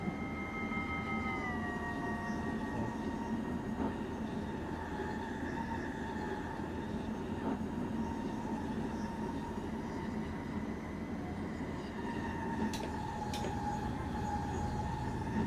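Stopping train 30824 bound for Zutphen rolls steadily along renewed track, a continuous loud rumble with squealing tonal whines near the start and the end, with no talk over it.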